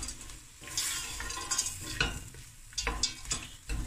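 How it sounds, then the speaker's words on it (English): Chicken and sweet potato are stirred in a hot pan, steady sizzling frying broken by repeated scraping strokes of a utensil against the pan, close and clear with no voices. "Stir fry."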